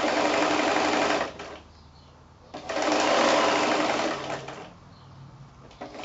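Sewing machine running in two loud bursts with a short pause between, stitching all the way around a felt notepad cover with appliqué, then easing off near the end.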